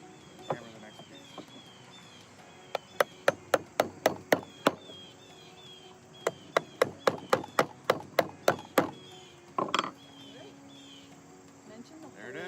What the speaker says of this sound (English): I'm going to push this in when I hammer the next piece.